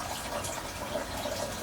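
Seawater gushing steadily from a disconnected raw water intake hose on a boat, a continuous close rushing splash, fairly loud and unbroken with no talking.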